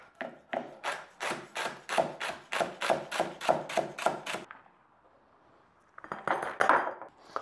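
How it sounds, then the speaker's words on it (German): A knife chops spring onion greens on a cutting board in a quick, even run of about a dozen crisp taps. After a short pause, a few more cuts follow, close and clear. "Da schneide ich mir das Grüne gerade für nachher als Garnitur."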